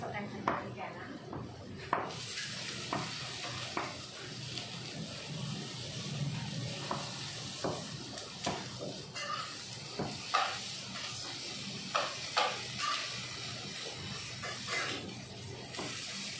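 Bean sprouts stir-fry with salt and a little oil in a pan, a steady hiss under scattered clanks and scrapes of the utensil, close by, with some speech in the background.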